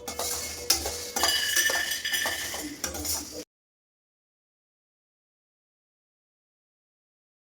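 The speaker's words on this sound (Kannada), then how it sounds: "ಎಲ್ಲನೂ ಲೋ ಟು ಮೀಡಿಯಮ್ ಫ್ಲೇಮ್ನಲ್ಲೇ ನಿಧಾನವಾಗಿ ರೋಸ್ಟ್ ಮಾಡ್ತಾ ಇದ್ದೀನಿ." Mixed grains and lentils dry-roasting in a pan over a low-medium flame, heard as a few seconds of clinking and scraping from a stirring utensil, followed by silence.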